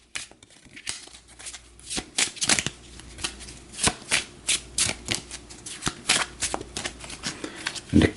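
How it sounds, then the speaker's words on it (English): Referee cards from a tabletop boxing game are shuffled by hand in a run of crisp, riffling card bursts, each a quick papery flutter, close and moderately loud with short pauses between, with no talk. "We'll give these a shuffle."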